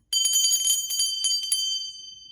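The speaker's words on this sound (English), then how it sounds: "Ooh, we have a bell. Brass pentacle." A small brass pentacle bell rings several times in quick succession, bright and metallic, with a clear shimmering tone that lingers and fades at the end.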